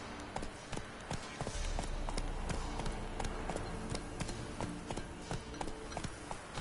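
Roach the horse gallops in The Witcher, a steady, rapid clip-clop of hooves close by, loud and rhythmic throughout with a low rumble beneath.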